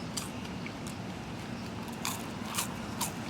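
Thin, crispy fries being bitten and chewed up close, with a few sharp crunches standing out over a steady murmur of background noise.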